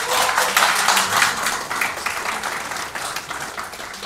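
Audience applause at a labour policy debate in Daegu, South Korea, with a burst of brisk clapping that starts loud and gradually thins and softens over four seconds.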